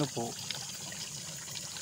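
Clear, cold spring water wells up out of the ground and flows steadily on a farm lot beside a river, a faint continuous trickle with a brief voice-like murmur near the start.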